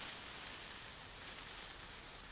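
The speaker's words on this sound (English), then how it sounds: "it's starting to sizzle already" Barbecue food sizzles on a grill in an English garden, a steady broadband hiss holding at an even level throughout with no voices over it.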